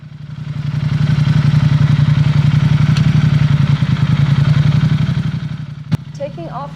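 A Ducati XDiavel muscle motorcycle pulls away hard from a stop, its engine pulsing in a loud, rapid throb that swells, holds, then fades as it moves off, ending with a sharp click.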